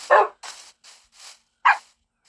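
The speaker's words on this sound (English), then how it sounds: "2 pooches and a baby pooch." Dogs in the video game Minecraft bark in five short, separate yips, two louder and three softer, spaced unevenly with silence between them.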